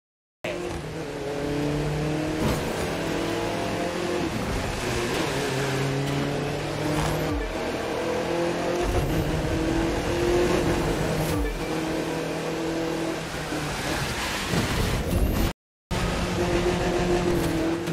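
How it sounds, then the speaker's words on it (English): Car engine in The Crew 2 racing game on Xbox One X, a loud sustained roar that revs and accelerates through gear changes with occasional tire squeal, continuous for about fifteen seconds with a brief dropout near the end. "that car's really moving."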